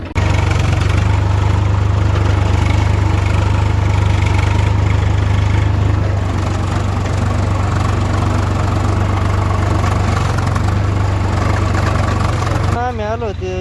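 A tractor engine labouring under heavy load while ploughing a field, a loud, steady low rumble that runs continuously and drops slightly near the end, with people talking over it.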